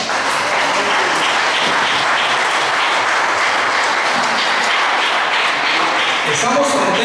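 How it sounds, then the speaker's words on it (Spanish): A church congregation gives loud, sustained applause, a dense, continuous roar of many hands clapping at full volume throughout, with faint voices mixed in near the end. "¿Cuántos le dan un fuerte aplauso al Señor?"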